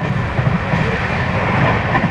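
The Pamban Express on the Rameswaram–Tambaram run rumbles along steadily, a loud continuous roar of wheels and carriages heard from on board.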